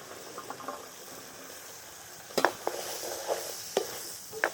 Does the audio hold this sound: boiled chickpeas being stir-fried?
yes